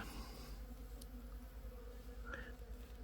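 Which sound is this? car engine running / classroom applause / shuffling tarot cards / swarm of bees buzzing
swarm of bees buzzing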